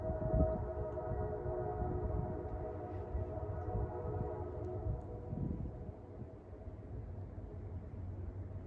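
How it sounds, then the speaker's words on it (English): Low, droning rumble of a train rolling by in the distance below Kinzua Bridge State Park, Pennsylvania, steady with a faint horn-like tonal hum, no voices. "So I don't know if you guys heard in the background the train."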